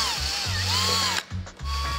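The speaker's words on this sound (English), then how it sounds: "After drilling some pilot holes" A power drill bores pilot holes for rivet nuts into carbon fiber panels on a road course Camaro, its motor whining in steady bursts with short pauses between, close and loud.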